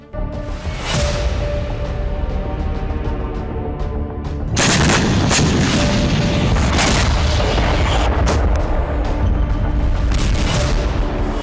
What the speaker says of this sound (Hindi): बलूचिस्तान में आबादी से सिर्फ 100 मीटर दूर भयानक विस्फोट हो गया